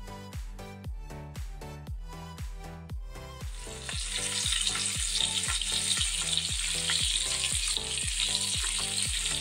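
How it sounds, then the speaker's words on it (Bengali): Marinated fish fries in hot oil in a kadai, the sizzle swelling to a loud, bright, steady crackle partway through. Rhythmic background music plays throughout. "এবার মাছগুলোকে আমি ভেজে নেব।"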